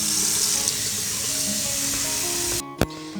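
Tap water pours steadily into a soup pot on a kitchen counter with a loud, close rushing hiss, then stops abruptly, followed by a single metallic clank of the pot.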